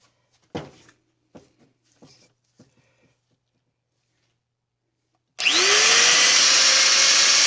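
A few faint clicks and knocks of handling come first, then a repaired angle grinder starts up suddenly and keeps running with a loud, steady whine that climbs in pitch as it gets up to speed.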